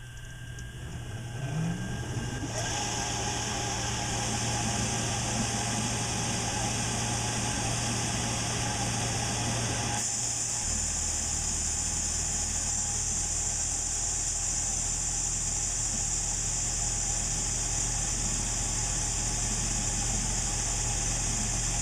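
A metal lathe turns down the diameter of a part toward about an inch, giving a steady, continuous mechanical hum and cutting noise at moderate volume with no pauses.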